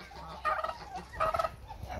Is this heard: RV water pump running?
no